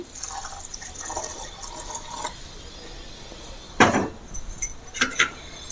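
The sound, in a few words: pouring a little water onto grated coconut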